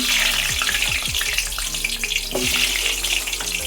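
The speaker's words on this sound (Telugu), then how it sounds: "నూనె కాగింది ఇప్పుడు ఉసిరికాయలన్నీ వేసేసుకుందాం" Indian gooseberries (amla) for pickle fry in hot oil with a loud, busy sizzle and crackle, punctuated by a few clinks and stirring sounds close by.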